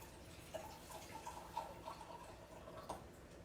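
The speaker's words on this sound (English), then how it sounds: "I'm going to pour me a glass" Wine pouring into a glass, a faint trickle with several small bright gurgles and splashes over about three seconds, heard fairly close in a quiet room.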